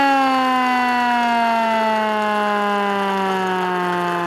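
A hand-cranked siren on a vintage fire engine gives a loud, sustained mechanical wail whose pitch slowly sinks as it winds down. It is close and steady, heard alone without talk.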